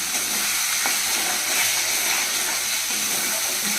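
Spice masala fries in oil alongside soybeans for a curry, making a loud, continuous close sizzle with light stirring throughout.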